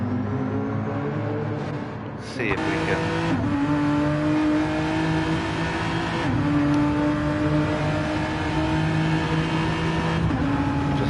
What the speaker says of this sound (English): Beautiful V8 burble